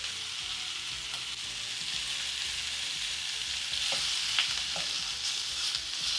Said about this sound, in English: Once the oil is smoking hot, I'm going to add the shrimp. All I need to do is just to brown.